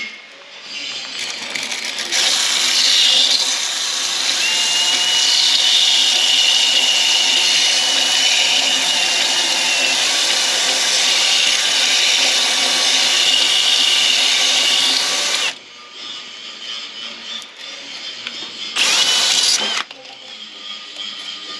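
A drill spins a tool on a rubber mount in a workshop, a loud steady high whir running for about fifteen seconds, then stopping, with a brief second burst near the end.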